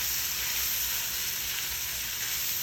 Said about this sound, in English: to cook the fried rice on high flame.